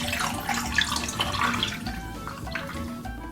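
Water pours into a drinking glass at a Malaysian spicy-food eating table, a steady trickling splash with faint dripping that runs close and continuous for a few seconds, with no talking over it.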